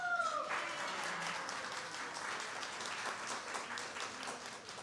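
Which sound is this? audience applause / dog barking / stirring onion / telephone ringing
audience applause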